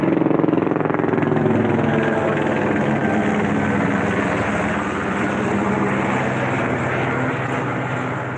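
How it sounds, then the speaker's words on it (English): A helicopter passes overhead, its rotor thump and engine drone loud and steady, fading slightly toward the end. "Oh, we got a chopper in the sky."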